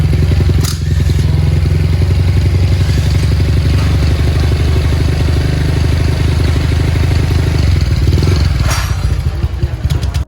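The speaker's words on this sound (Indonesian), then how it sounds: "motornya ini tuh udah bore up ke 63 mili, tapi terdapat suara kasar kayak gini nih besti" A Honda Vario 150 scooter engine, bored up to 63 mm, idles loudly and roughly up close, a steady throbbing rumble with clattery, uneven mechanical noise throughout.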